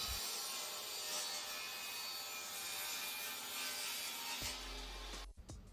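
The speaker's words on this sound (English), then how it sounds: "First we saw the top part." Wood being sawn for the top part of a stand for a motorized projection screen cabinet: a steady, loud, close rasping rush that continues without pause before cutting off abruptly near the end.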